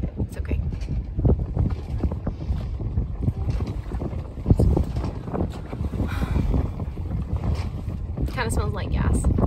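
A sailboat motoring on its engine straight into the wind while sailing solo in the Bahamas, a steady low drone with wind buffeting the microphone and water splashing against the hull, with brief talk near the end.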